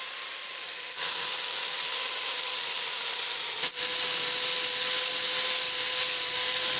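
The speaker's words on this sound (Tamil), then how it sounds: "நம்ம கட் பண்ணி எடுத்த அந்த ஹார்ட் ஷேப்னால தேய்ச்சி ஃபைன் பண்ணிக்கலாம்." A cut heart-shaped wooden frame for resin art being sanded smooth, heard as a steady, close, abrasive rubbing that runs without a break and dips only briefly twice. No one speaks.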